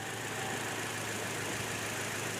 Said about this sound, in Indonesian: komponen yang berhubungan dengan suara berisik pada mesin mobil